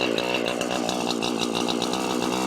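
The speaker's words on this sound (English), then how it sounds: "Something's happened with the chainsaw." A chainsaw runs steadily while cutting a massive oak, a loud, close, continuous buzzing whine with slight pulsing in its pitch throughout.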